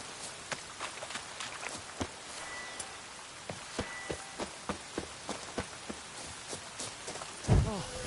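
Rain falls in The Witcher 3, a soft steady patter with scattered sharper drips and taps at close range, quiet overall, ending with a brief low thump.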